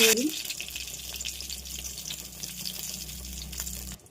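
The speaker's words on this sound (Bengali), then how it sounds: "আর এখানে কড়াইয়ে তেল দিয়েছি, তেলে দুটো কাঁচা লঙ্কা আর পাঁচফোড়ন" Green chillies and panch phoron sizzle in hot oil in a kadai, a steady broadband hiss that holds close and even for about four seconds before cutting off abruptly.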